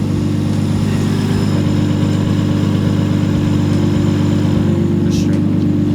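A Nissan Laurel C34 with an aftermarket exhaust idles close by, a loud, steady low rumble with an even pulsing beat throughout.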